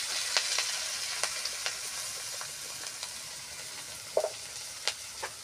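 Ginger paste, green chilli and cumin masala sautéing in a pan, giving a steady soft sizzle with occasional light clicks of stirring, quiet and close with no talking.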